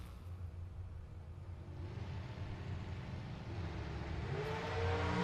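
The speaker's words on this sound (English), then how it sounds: "He's cracking the throttle already." A drag racing car at a strip is held near the line and then revved, a low engine rumble that builds and gets louder toward the end, heard from a distance, with no voices.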